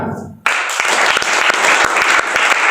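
A church congregation applauds during a worship service, bursting into loud, dense clapping that starts abruptly and holds steady to the end.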